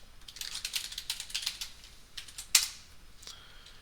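A username and password for a Linux instance are typed on a computer keyboard, a quick, fairly faint burst of clattering keystrokes that ends with one sharper key press.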